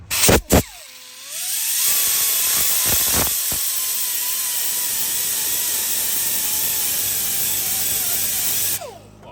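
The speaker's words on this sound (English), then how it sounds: "I'm just going to skim the top of that piston clean just to see if that is really a proper crack in it." A power tool skims the top of an engine piston, a loud continuous high whine and hiss that runs for several seconds after a few short bursts, then cuts off abruptly.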